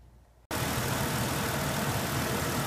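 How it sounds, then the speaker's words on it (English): A Mercedes W163 ML350 engine starts up and idles, a loud steady close rumble that cuts in abruptly after a quiet moment and holds without talk. "Engine's running now."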